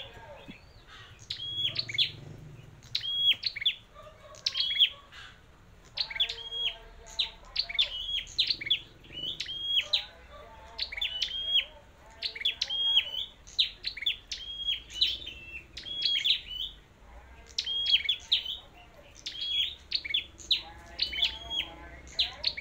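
A pair of red-headed flowerpeckers sings in repeated bursts of sharp, high chirps and tweets, close and clear, with brief gaps between phrases over a quiet background.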